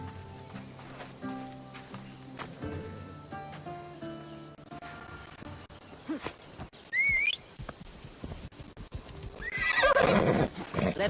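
Horse hooves clip-clop along in a video game ride on a Greek island setting, with a horse neighing and whinnying loudly near the end over a music bed.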